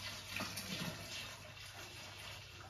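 Home-brew Cellar 7 wine from a box poured steadily into a glass, a soft continuous liquid trickle running close and fairly quiet for the whole moment, with no voices.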